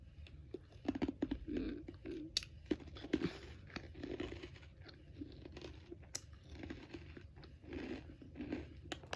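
Undercooked Fresh Gourmet organic croutons of medium thickness are chewed up close, with repeated crisp crunches and bites in an uneven rhythm, fairly quiet and with no talking.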